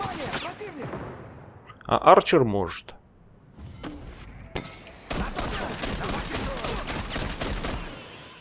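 Gunfire in the online shooter game Caliber: a few sharp shots and a burst of rapid fire with echoing crackles, mixed with game sounds while a player talks over it.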